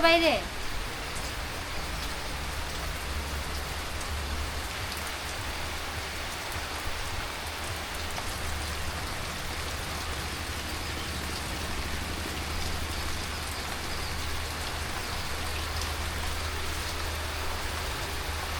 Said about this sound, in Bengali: দেখছো বৃষ্টি কেমন নামছে